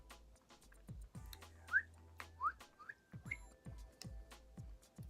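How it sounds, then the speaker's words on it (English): A person whistles a short, wavering tune, the notes rising and falling in a few separate bursts over a quiet room background with soft thumps. "Yes, I can whistle."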